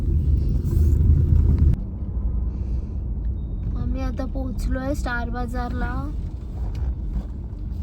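Low, steady rumble of a car engine idling at close range while parking, heavier at first, with a person talking over it midway.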